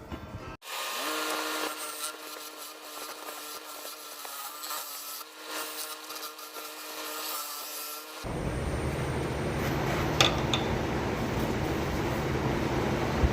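An Arizona ash burl bowl spinning on a lathe, a steady motor hum with rough tool scraping that turns louder and coarser partway through, with occasional sharp catches.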